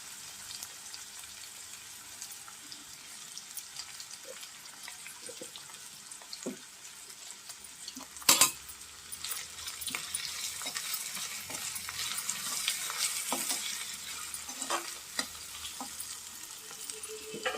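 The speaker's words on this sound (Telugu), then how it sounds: "ఇలా టమాటా ముక్కలు వేసుకోండి టమాటాలు మెత్తగా ఉడకాలి" Tomato pieces fry in a pan with onions, sizzling steadily while a utensil scrapes and stirs, with one sharp clatter partway through and brief rising bursts after it.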